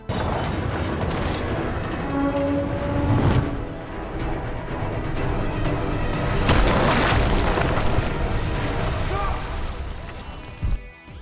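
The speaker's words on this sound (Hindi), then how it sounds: "और जब बमों का शोर वहां तक फिर से पहुंचता है" Bombs exploding in the TV series See, heavy booming blasts and crashing debris rolling through a dense, loud battle soundscape, with surges of louder impacts near the middle and end.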